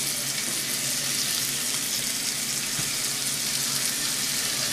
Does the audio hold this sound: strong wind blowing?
no